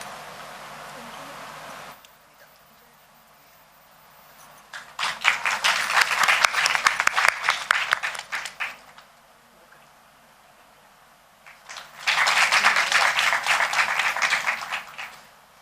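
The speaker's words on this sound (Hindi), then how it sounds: "जोरदार तालियों के बीच मैम का हार्दिक अभिनंदन कीजिए।" Audience applause at a Hindi literary festival comes in two strong bursts of dense clapping, each lasting a few seconds, separated by a quieter stretch of hall ambience.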